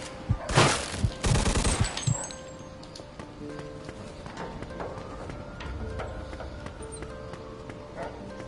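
Loud gunfire bursts in Mafia II Definitive Edition crackle in rapid volleys early on, then give way to quieter, scattered game sounds and a low rumble.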